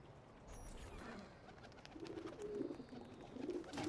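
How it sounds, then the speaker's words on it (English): Pigeons coo in a pigeon coop within the video game Assassin's Creed II, soft repeated throaty calls rising over a steady ambient game background, a few warbling coos clustered toward the end. "I forgot the pigeon coops were a thing in this game too."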